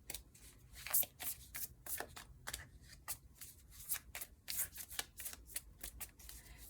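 A tarot deck is shuffled close up, quiet papery riffles and slides coming in quick, irregular bursts one after another.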